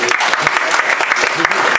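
Audience applause at a live Paris inauguration event, a dense, steady wash of many hands clapping for about two seconds, loud and close, with no voices over it.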